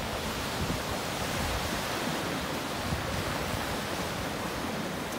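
Steady, broadband wind roar buffeting the microphone, constant and loud throughout with no voices.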